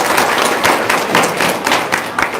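A large crowd of about two hundred at a religious gathering for orphans claps together briefly, loud, close and busy with uneven slaps for a couple of seconds.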